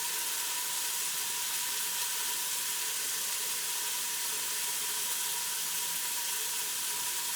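Onions sizzle in a hot frying pan while tuna and noodles are cooked, a steady, bright, even hiss that holds at one level for the whole stretch with no talking over it.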